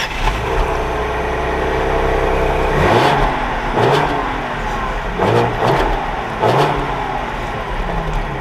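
A 2021 Lincoln Aviator Reserve luxury SUV engine idling and then accelerating in several rising pulls as it drives off, close and fairly loud, with no talk.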